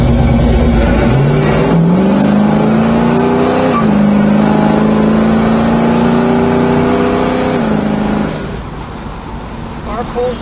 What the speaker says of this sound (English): Car pulls just like it should.